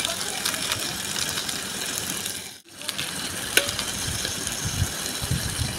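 Food frying in hot oil in a pan is stirred with a steady sizzle and scraping clatter close by, while a person talks over it.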